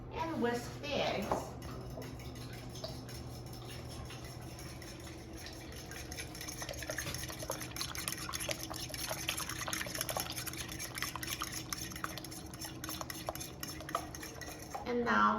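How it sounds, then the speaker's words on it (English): Eggs are whisked in a bowl with a utensil, a busy run of quick clinking and stirring taps against the bowl that carries on without pause, close by and moderately quiet, with a voice speaking over it. "And whisk the eggs."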